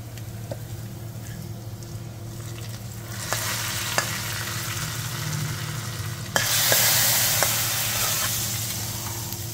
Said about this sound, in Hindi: अब बघार देंगे